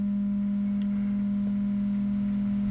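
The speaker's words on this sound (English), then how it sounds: "The filter produces a rounded sine wave result, whereas the slew rate limiter is producing a triangle wave." A synthesizer slew rate limiter produces a triangle wave as a loud, steady sustained tone, unchanging and alone.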